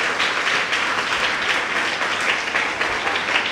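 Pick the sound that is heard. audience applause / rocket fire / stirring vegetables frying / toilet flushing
audience applause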